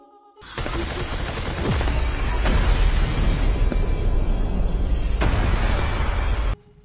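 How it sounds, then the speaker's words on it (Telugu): Glass bridge exploding in the Squid Game series: a loud rumbling blast erupts abruptly and keeps roaring with crackling bursts for several seconds before cutting off sharply. "టైం అయిపోయిన తర్వాత ఆ బ్రిడ్జి పేలిపోతుంది."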